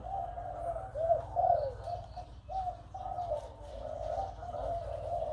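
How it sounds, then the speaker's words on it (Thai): A female hybrid dove coos repeatedly in low, rolling, throaty phrases, deep-voiced, close and fairly steady, with faint chirps in the background. "ตัวนี้เป็นนกลิวตันตัวเมียนะครับเสียงใหญ่นะครับ"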